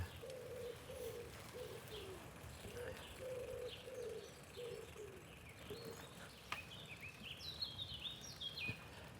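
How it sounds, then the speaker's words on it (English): Pigeons coo in a repeated low rhythm alongside scattered chirps from other birds, set against a quiet outdoor street background in Strasbourg, France. "what I notice is the sound of the birds"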